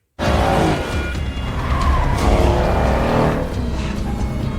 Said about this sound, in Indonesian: Saat dalam perjalanan, para polisi pun mengejar mobil Matt